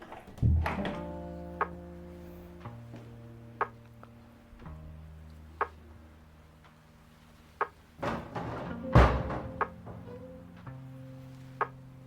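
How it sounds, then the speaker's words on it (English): A bathroom door in an Italian home swings shut with a firm thunk, followed by several sharp knocks and taps echoing in a quiet interior with lingering resonant hum. "I'm going to close the door to the bathroom."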